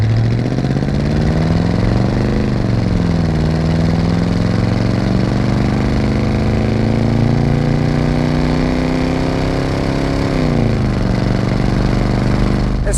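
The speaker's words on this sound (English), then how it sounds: "so we'll go ahead and get the throttle a little bit" A 1987 Chevrolet El Camino with a 305 V8 rumbles loud and close, its pitch climbing as the throttle opens, holding raised revs, then dropping back near the end.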